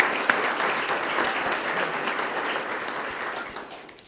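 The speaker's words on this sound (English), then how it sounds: "Let's give them a round of applause." A crowd at a police swearing-in ceremony applauds steadily, dense clapping that gradually tapers off toward the end.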